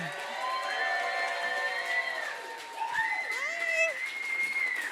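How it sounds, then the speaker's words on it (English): A studio audience at an NFL talk show claps and cheers to welcome Seahawks safety Julian Love, steady crowd noise laced with shrill whistles and whoops throughout. "Everybody, round of applause."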